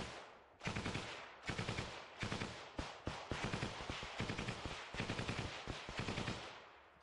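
Heavy gunfire in a battle fought by Ukrainian marines, with repeated loud machine-gun bursts and single shots in rapid clusters, close and sharp, with no talk.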